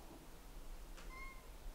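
A single faint cat meow, short and thin, rises briefly over a quiet background hum.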